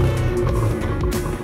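A Hyundai i20 N hot hatch engine running close by, a steady deep rumbling hum with low harmonic drone, loud and alone without talk.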